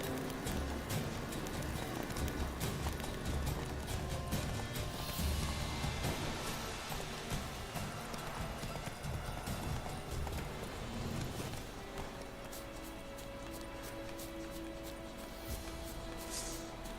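Horse hooves clip-clopping at a steady gallop in Witcher 3: Wild Hunt, loud and continuous with a busy game soundscape, easing slightly in the last few seconds.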